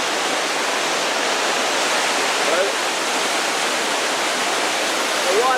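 A waterfall in Johnston Canyon, Banff, crashes down, heard from a small cave cut into the rock beside it as a loud, steady, unbroken roar of water.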